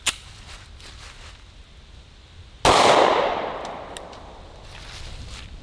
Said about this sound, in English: we're shooting this one out of the Smith & Wesson M&P shield.